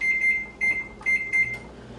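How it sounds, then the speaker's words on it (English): A microwave oven hums while heating butter and chocolate chips, with a steady high electronic beep sounding in several short bursts over a low running drone. "I'm going to put them in the microwave for just about a half a minute"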